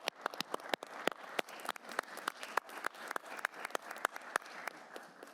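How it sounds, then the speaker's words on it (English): Clapping at a city council meeting, a small, sparse group of people applauding with individual claps clearly separated, fairly quiet and distant in a room. "how about let's give them a round of applause"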